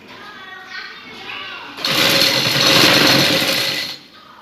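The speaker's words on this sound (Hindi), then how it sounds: "इसी तरीके से यहाँ से भी सिलाई हम लगाएंगे" A sewing machine stitches lace onto a hem, running in a loud steady whirring burst for about two seconds before stopping, with a voice talking beforehand.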